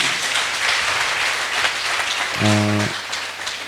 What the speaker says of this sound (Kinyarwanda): Arakoze mu gukomera amashyi menshi cyane